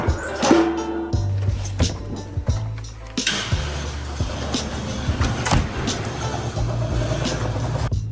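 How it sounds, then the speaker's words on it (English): A skid steer's engine runs steadily at low, even revs, with several sharp clanks and knocks of machinery on top and no talking. "So I'm gonna load up the skid steer here and we'll take off."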